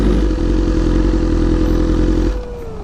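A BMW big bike's engine runs close by with a loud, steady throbbing rumble that drops to a quieter idle near the end.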